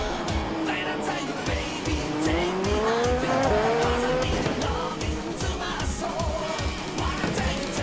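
Race cars from the IndyCar racing video game sweep through a turn on the Fort Worth or Austin circuit, engines droning and rising in pitch with tire squeal, loud and continuous throughout.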